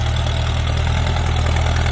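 A Ford 6640 tractor engine runs loud and close in a muddy rice paddy, with a constant low, throbbing rumble and no break throughout.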